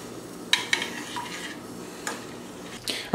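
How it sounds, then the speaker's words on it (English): A spoon stirs a clumpy mead mixture in a pot, a batch of bochet mead, scraping and clinking against the sides in several separate knocks spread across a few seconds, with quiet background hum. "So I'm gonna stir this up and try and get rid of all the clumps"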